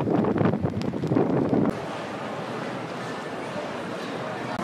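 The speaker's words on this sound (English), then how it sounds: "Still windy." Steady wind rushing across the microphone on a Liverpool street, with a louder, busier stretch of low rumble and background noise at the start before it settles into a constant hiss.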